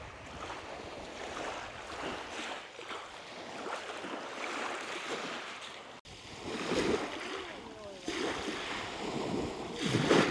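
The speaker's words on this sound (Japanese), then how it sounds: "相変わらず瀬戸内の海は穏やかです" Gentle surf laps at a calm Seto Inland Sea swimming beach in Kagawa, soft washes rising and falling a few times, faint and close, with light wind buffeting the microphone.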